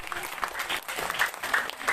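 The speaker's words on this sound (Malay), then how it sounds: "Kita berikan tepukan sekali lagi." Audience clapping at a speech gathering under a tent, a steady dense patter of many hands that fills the whole moment at moderate loudness.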